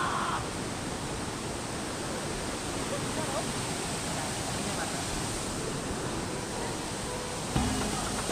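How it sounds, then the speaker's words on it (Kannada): Waterfall near Nagarkot in Bhaktapur, a steady, loud broadband roar of falling water that holds constant throughout with no pauses, close to the listener and with no talking over it. "ಸೊ ಇದೇ ಭಕ್ತಾಪುರ್ನ ನಾಗರ್ಕೋಡ್ ಹತ್ರ ಇರುವಂಥ ವಾಟರ್ ಫಾಲ್ಸು"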